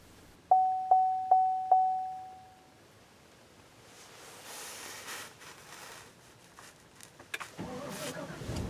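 Push-button ignition of a 2018 GMC Yukon: four short evenly spaced chimes, then a rising crank as the engine catches and settles into a low idle with faint interior clicks.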